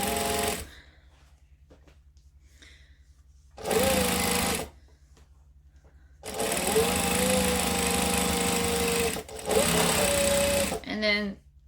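Sewing machine stitching fabric and vinyl, running in several loud bursts of rapid mechanical whirring separated by quiet pauses, with a person talking during the gaps.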